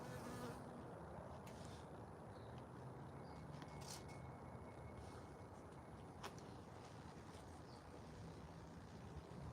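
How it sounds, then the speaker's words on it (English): A bee buzzes outdoors as a steady, continuous drone against a noisy open-air background, fairly faint and unbroken throughout, with no talk over it. "Oh, look, a bee."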